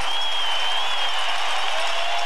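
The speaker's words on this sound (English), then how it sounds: "And now the home crowd was ready to cut loose on Rosenblatt Stadium." A packed home crowd at Rosenblatt Stadium in Omaha during the College World Series sends up a continuous wash of cheering and applause, steady and loud throughout with no single voice standing out.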